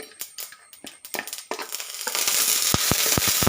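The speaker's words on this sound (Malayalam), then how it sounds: "ചെറുതായിട്ടൊന്ന് വഴറ്റി കൊടുക്കാം." Crushed ginger and chopped chili hit hot oil in a pan and are lightly sautéed, starting with a few sharp clatters and stirs before settling into a steady, close sizzle.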